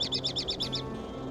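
Birds in the video game Nancy Drew: The Secret of Shadow Ranch let out a quick burst of about seven loud, sharp chirps in rapid succession, then fall quiet over a low background hum.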